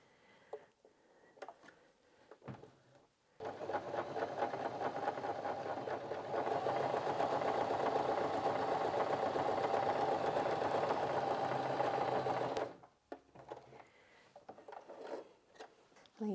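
A Janome J3-24 sewing machine straight-stitches denim with a long stitch length, a steady whirring, rapid clatter running continuously for about nine seconds, bracketed by a few faint handling clicks before and after.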